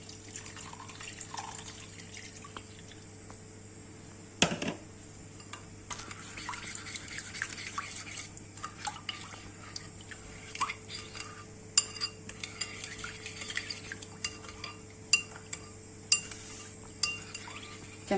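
A spoon mixes tomato paste, hot sauce and shrimp broth into a sauce, making scattered soft clinks and scrapes against the dish over a faint steady hum.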